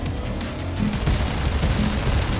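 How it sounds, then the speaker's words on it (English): Rapid machine gun fire in the combat racing video game GRIP, loud bursts of rattling shots over a constant roar of engines and action. "Oh man, machine gun!"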